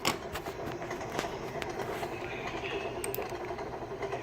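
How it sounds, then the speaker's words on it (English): Thomas the Tank Engine locomotive at a Day Out with Thomas event, a steady rumbling rail and engine noise with scattered clanks and knocks, continuous and moderately loud throughout with no talk. "This is what the SA3D Thomas engine looks like."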